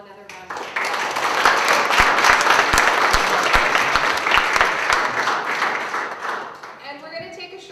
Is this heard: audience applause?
yes